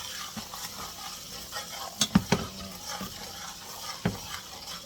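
Curry frying in a pot with garlic, scallion and pepper for a Jamaican local meal, a steady crackling sizzle broken by sharp clanks and scrapes of a utensil stirring against the pot.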